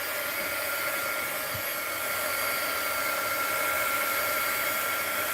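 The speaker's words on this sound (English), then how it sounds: "Heat gun alert." Heat gun blowing hot air to dry a painted art journal page, a steady close whooshing hum at constant loudness with no talking.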